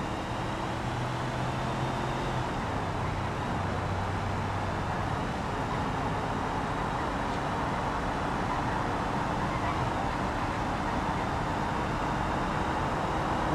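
A steady classic truck engine drone in BeamNG Drive, a low hum, continuous and fairly close, like a vehicle cruising along without pause.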